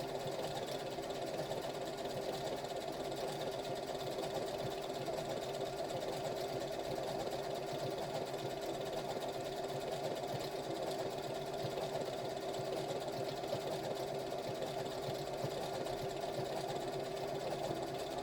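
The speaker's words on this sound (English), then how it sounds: "take it through the actual arm of your sewing machine" A sewing machine runs continuously at an even pace, its rapid stitching hum and clatter steady and moderately quiet throughout, with no voices.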